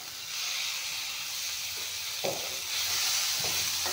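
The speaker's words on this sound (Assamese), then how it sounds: "এতিয়া এইখিনি ভালকৈ ভাজি ল'ম" Paneer frying in a pan hisses and sizzles continuously up close, broken by a couple of brief stirring scrapes and growing slightly louder toward the end; nobody speaks.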